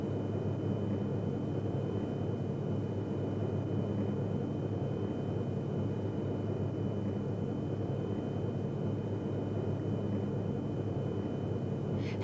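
Steady, broad engine roar from inside an airplane cabin as the plane gathers speed, a constant droning hum with no talk over it.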